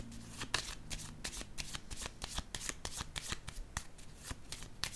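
Tarot cards being shuffled and drawn during a French reading, a steady run of quick crisp riffling snaps and slaps up close, with no voices.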